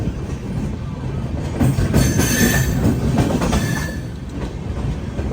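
An express train pulls into Raipur Junction railway station with a loud, steady rumble of wheels on rails, rhythmic clatter and faint squeal building and easing over several seconds, and no voices.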